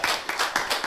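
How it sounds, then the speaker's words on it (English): Brief burst of hand clapping from a small group in a TV studio, several quick claps at an even rhythm, fairly close and loud with no talk over it. "A round of applause for that, please"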